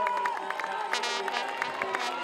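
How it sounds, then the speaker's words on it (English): At the finish of a long-distance orienteering world championship race, a crowd claps and cheers for a runner, a dense steady patter of applause with shouts, under a commentator's voice. "Plenty of applause and support from the crowd."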